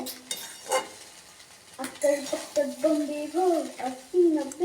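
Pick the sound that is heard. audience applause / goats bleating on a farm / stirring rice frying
stirring rice frying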